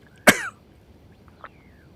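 A single sharp, loud cough bursts out close by, followed by a faint second cough a moment later in an otherwise quiet room.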